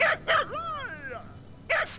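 A cartoonish dog in the video game Space Tail gives a couple of short barks, then a drawn-out whimpering growl, then another bark, sounding close and alone over a quiet background.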